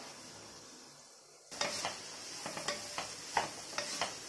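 Chopped vegetables including beans stir-fried on a high flame for Chinese restaurant-style fried rice: a quiet start, then a sudden loud sizzle with repeated sharp spatula scrapes and clinks against the pan.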